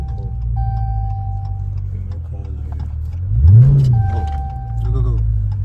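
A Dodge Challenger 392 Scat Pack fitted with a K&N cold air intake roars as it accelerates hard on an open road, the engine note rising and swelling midway, with people talking over it.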